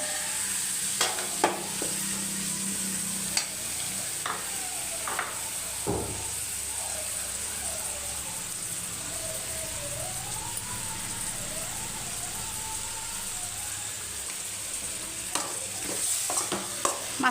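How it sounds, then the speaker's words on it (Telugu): Chicken pieces frying in a pan and stirred through with masala, a continuous soft sizzle broken by scattered scrapes and clatters, while a faint wailing siren drifts past in the distance. "ఆల్రెడీ క్లీన్గా కడిగి పెట్టుకున్న చికెన్ ముక్కలు వేస్తున్నానండి."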